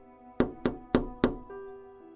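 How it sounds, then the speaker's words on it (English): Four evenly spaced, light knocks on a glass door, each a crisp resonant tap with a short ringing decay, heard close and alone, followed by a faint sustained tone. "There was a light knock on the glass door."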